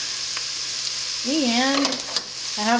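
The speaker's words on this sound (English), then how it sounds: "just going to add our red onion" Red onion hitting a hot pot for a Thai curry chicken noodle soup, a bright steady sizzle throughout, with someone talking over it.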